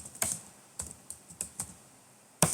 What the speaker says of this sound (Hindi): ये HR यूजर्स लिख देता हूं मैं यहाँ पे